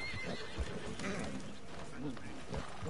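A horse whinnies amid clip-clopping hooves and background noise in the video game Red Dead Online, with people talking over it at a moderate level.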